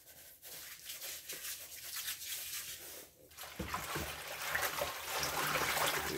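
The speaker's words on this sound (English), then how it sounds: "let's wash these greens again" Mustard greens being rinsed and swished by hand in a basin of water, close sloshing, trickling and splashing that grows louder and busier partway through after a brief pause.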